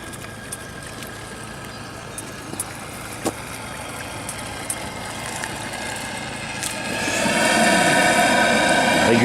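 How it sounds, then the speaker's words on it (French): A radio-controlled model steam boat replicating the liner France runs steadily on the water at a 2019 Île-de-France steam model meet, its engine humming at a constant level before swelling louder near the end as it is put in reverse to dock. "Un petit coup de marche arrière et on arrête le bateau une fois qu'il est en position."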